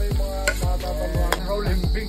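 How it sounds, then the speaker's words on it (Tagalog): Ginger and garlic sautéing in oil in a hot pan, a steady sizzle with repeated knocks and scrapes of a spatula stirring at an even rhythm. "Tapos ay sisimulan na natin maggisa ng luya,"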